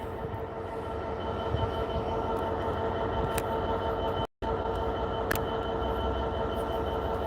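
Passenger trains, including LNER and East Midlands services, running through Peterborough station, a steady broad rumble of rolling stock with brief higher squeals, sustained throughout apart from a momentary dropout.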